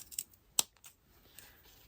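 Scissors snip through fabric while a small pouch for a baby tooth is being sewn: a few quiet, brief cuts, one sharper snip standing out, in an otherwise hushed room.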